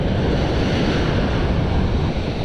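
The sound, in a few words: ocean waves breaking on a beach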